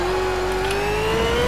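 V8 supercar engine revving on a race track, a loud steady howl with the pitch rising slowly across a brief, constant burst.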